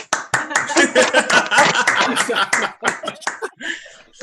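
A small group of people claps at close range in an uneven, sparse burst of handclaps mixed with chuckling and laughter, fading out after a few seconds.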